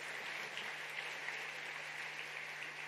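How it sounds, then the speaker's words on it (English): Round of applause from delegates at a plenary session in KICC, Nairobi: steady, dense clapping from a large crowd at moderate level, sustained without a break. "A bigger round of applause, please"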